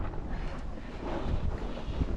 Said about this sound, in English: It's been windy, which is nice.